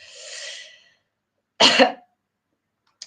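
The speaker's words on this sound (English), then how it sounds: "I have a bit of a cough" A single sharp cough rings out close up, after a soft breathy exhale; otherwise quiet.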